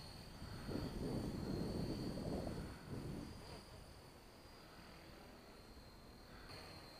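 A WLtoys V950 brushless 3D RC helicopter flies outdoors in wind, giving a faint, distant high whine and rotor buzz that swell louder for a couple of seconds under throttle, then ease off.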